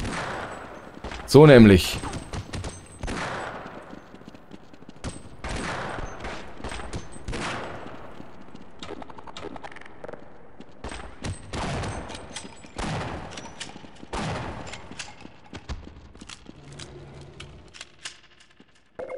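Revolver shots in the first-person shooter Half-Life 1: several sharp, loud cracks spaced irregularly, the first and heaviest near the start, with someone talking between them over game ambience.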